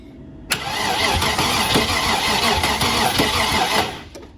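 A Land Rover Discovery 2 engine cranking over without catching, a sharp starter engagement followed by about three seconds of steady, rhythmic close-up cranking that then stops.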